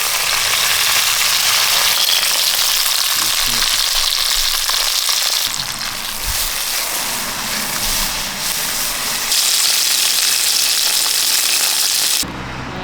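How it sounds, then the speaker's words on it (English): Broccolini sautéing loudly in a hot pan, a steady, dense sizzle that holds close and constant throughout, with faint stirring shifts and no talking. "Little broccolini in to saute it and cooked it together."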